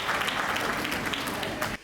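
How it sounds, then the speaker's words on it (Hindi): An audience at a poetry gathering gives a burst of dense, sustained clapping that stays loud and even, then cuts off abruptly near the end. "मैं चाहता हूं आप अपने सम्मान में एक बार जोरदार तालियां बजाइए"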